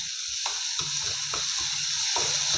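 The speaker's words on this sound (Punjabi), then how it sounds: "ਹੁਣ ਪਾ ਦਾਂਗੇ ਪਿਆਜ਼ ਟਮਾਟਰ ਕੱਟੇ ਹੋਏ ਇਹਨਾਂ ਨੂੰ ਵੀ ਆਪਾਂ ਹਲਕਾ ਜਿਹਾ ਭੁੰਨ ਲਾਂਗੇ" Chopped onions and tomatoes sizzle lightly in a pan for a breakfast dish made with green peas and bread, a steady close frying hiss broken by a few soft stirring scrapes, with no talking.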